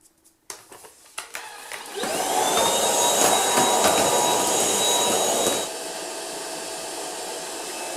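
Ultenic U10 vacuum cleaner with a rotating brush starts up and runs, rising from clicks and handling noise into a loud, steady high-pitched whine with a broad roar, then dropping to a lower hum; no talking.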